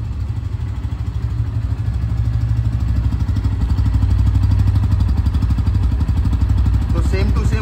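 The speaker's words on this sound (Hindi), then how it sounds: "मैंने स्टार्ट कर लिया तो एक बार एग्जॉस्ट साउंड" A Bajaj Pulsar N160 motorcycle, a 2024 model, idles close by with a steady low exhaust rumble that rises slightly in the middle, and the engine note fills the whole stretch.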